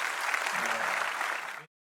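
A church congregation clapping together, a dense burst of many hands applauding that holds steady and then cuts off abruptly.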